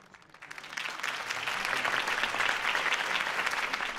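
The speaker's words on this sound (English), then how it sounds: "If only Mr. Wayne, my campaign's largest backer, could have heard that applause" Applause from a crowd greets a campaign speech in the Batman Telltale video game, a dense, steady clapping that rises quickly after a quiet start and holds loud for several seconds.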